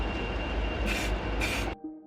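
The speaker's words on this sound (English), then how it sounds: "I'm spray painting it black." Aerosol spray paint hissing onto a 3D printed model, coating it black, in two loud bursts of roughly half a second each over a steady background rumble. The spraying stops abruptly near the end.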